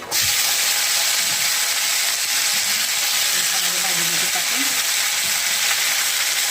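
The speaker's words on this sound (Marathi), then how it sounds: "मी तेल टाकलं आहे त्याच्यात लसूण मोहरी" Garlic and mustard seeds fry in hot oil with a steady, dense sizzle that fills the whole stretch, loud and close, with faint clicks of stirring underneath.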